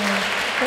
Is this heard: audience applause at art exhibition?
yes